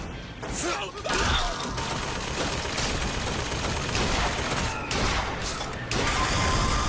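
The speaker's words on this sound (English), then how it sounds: "That's a hand cannon." Continuous heavy hand cannon gunfire in the video game Bioshock Infinite rattles nonstop, loud and close, with blasts and crashes layered over a dense battle din.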